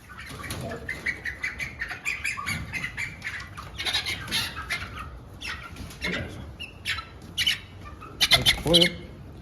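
Big, heavy meat chickens squawk and flap their wings in a dense, busy clamor, with bursts of louder squawking near the end.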